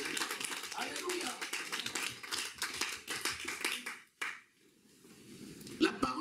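Congregation at a church service clapping in acclamation of the Lord, dense rapid handclaps close and loud for about four seconds, then a sudden drop to near quiet before a few scattered claps return at the end.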